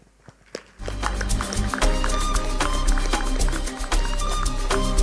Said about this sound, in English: That's a very shy clap